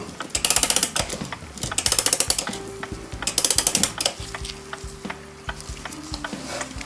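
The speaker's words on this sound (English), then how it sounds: "Now we'll take the mainspring clamp off and test the count wheel under the pressure of the spring." Gilbert kitchen clock gears ratchet as the mainspring clamp comes off and the count wheel runs under spring pressure: three bursts of rapid, close metallic clicking, then sparser ticks and clicks, with no talking.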